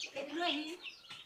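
Chickens clucking inside a brooder on a small poultry farm, a short burst of close, fairly soft calls with a brief chirp near the end.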